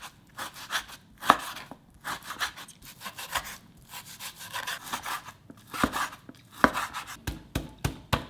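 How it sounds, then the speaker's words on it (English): Knife chopping fatty pork into small pieces on a board, irregular bursts of close, crisp blade strikes and scraping that come in quick clusters with short pauses, no voices. "The reason I'm cutting like this instead of using ground pork is that because"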